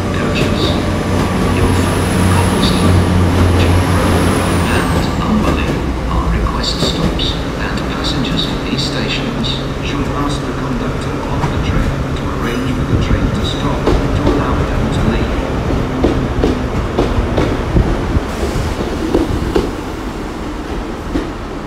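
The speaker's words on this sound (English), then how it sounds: "We just had the Penzance train leave" Train at Exeter St David's station, a loud continuous rumble of a departing train with wheel clatter and a high squeal early on, mixed with station ambience and occasional nearby voices.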